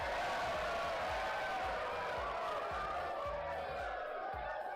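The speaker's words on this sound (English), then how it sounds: "I'd like to thank all of you with the loudest cheer I've got right here" A streamer plays a loud crowd-cheer sound effect, a dense, steady roar of a cheering crowd that carries on without a break for several seconds.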